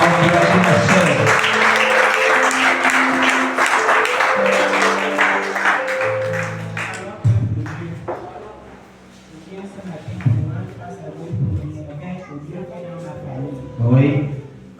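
A church congregation claps and cheers in applause for a sister about to testify, a loud dense burst that fades after several seconds into a voice on a microphone.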